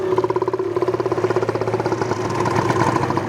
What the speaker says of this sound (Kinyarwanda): uko ufashe akariro gakeya moto igenda ihaguruka gake gake